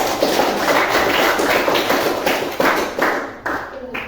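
Students in a junior high school classroom clap together during an algebra lesson, a dense, steady patter of hand claps with a few louder bursts, fading toward the end.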